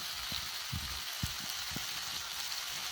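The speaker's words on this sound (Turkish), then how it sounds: "kozalakların ateşinde pişen" A pot dish cooking over an outdoor fire of burning pinecones, with a steady close frying sizzle broken by a few sharp pops and crackles, no voices.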